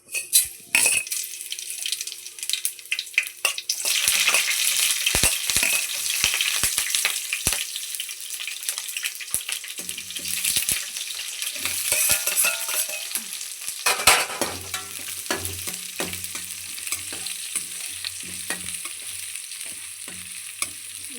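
Tomatoes and rice sizzle steadily in hot oil while a spoon scrapes and stirs against the pan, up close and continuous for about twenty seconds with no talking.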